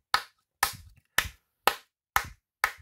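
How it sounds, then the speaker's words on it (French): Six sharp, evenly spaced claps ring out one after another, loud and close, as a round of applause closes a review of the LEGO 40642 Gingerbread Ornaments set; no voices are heard between them. "suivi de mes applaudissements habituels dans des reviews Lego"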